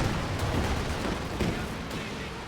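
Land Mattress rockets fire in a barrage in a World War II strategy video game, a rapid run of muffled booms and thuds rolling on over a dense, rumbling battle din, with a voice commentating over it.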